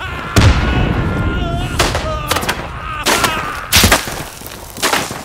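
Gunfire and artillery in the WWI video game Isonzo, several sharp loud reports with echoing tails spaced a second or so apart, some sounding more distant, with brief speech in between.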